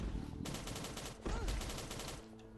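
Gunfire in the survival video game Last Day on Earth, with loud, rapid bursts of shots that start abruptly, ease off briefly, then return in a second dense volley, with no talking.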